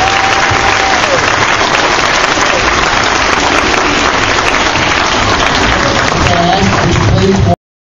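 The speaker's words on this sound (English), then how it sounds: "a big round of applause" Dense, sustained applause from an audience at a school honor roll presentation fills the whole stretch at a steady, loud level, then cuts off abruptly.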